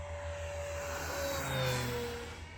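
An RC model airplane engine flies overhead at a busy park, a thin, high buzzing whine that bends in pitch as the plane passes and grows slightly louder near the middle.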